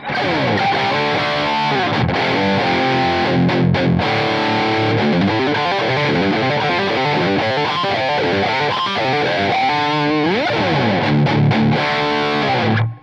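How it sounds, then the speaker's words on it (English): An electric guitar driven through a Tube Screamer and a TC Electronic Spark, with no amp boost, plays a continuous riff with gritty overdriven chords and fast note runs, loud and close with no talking. "let's listen to my favorite sound with the Tube Screamer and the TC Electronic Spark without the boost this time on the amp"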